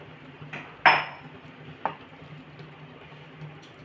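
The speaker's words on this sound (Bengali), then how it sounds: "ফুটতে শুরু হয়েছে এবার আমি ভাজা পটলগুলো দিলাম" Fried pointed gourd pieces drop into a simmering yogurt-poppy seed gravy in a pan, with a soft bubbling bed broken by a few sharp clinks and splats from a spoon and the pieces landing.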